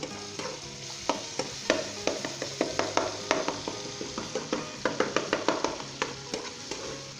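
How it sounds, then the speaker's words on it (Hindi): A spoon scrapes and stirs softened tomatoes in a pan for a Pakistani aloo gobhi salan, giving a steady run of close, rhythmic scraping strokes over a soft sizzle, with no talking. "इसे मिक्स कर लें दोबारा।"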